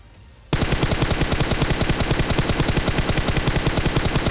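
An M249 machine gun firing in a battle royale video game: after a brief quiet moment, a loud, unbroken stream of rapid, evenly spaced shots runs to the end.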